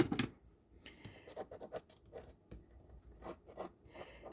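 A bone folder scrapes and presses tape down along the edge of a paper bag pocket in a close paper craft, giving a run of short, dry scratching strokes with brief pauses between them.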